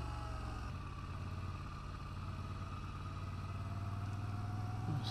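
A Moto Guzzi V7 motorcycle engine idling nearby, a steady low rumble with an even, throbbing pulse and a faint rise in pitch near the end.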